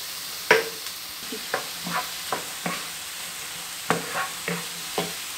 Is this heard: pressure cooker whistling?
no